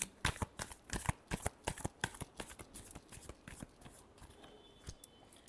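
Tarot cards being shuffled in a rapid run of crisp, papery riffles and snaps, close and fairly loud, with no talking over them.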